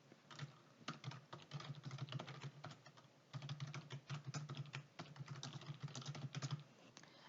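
Typing on a computer keyboard while entering spreadsheet content, rapid close key clicks in two steady bursts separated by a brief pause, fairly faint and with no speech.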